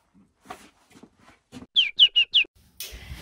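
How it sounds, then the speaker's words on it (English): A small bird chirps four quick, bright times in a row, close and clear, in a comedy sketch set in a doctor's office, preceded by faint murmuring and followed by a short burst of noise. "there's this bird on my head and I'd like you to take a look at it"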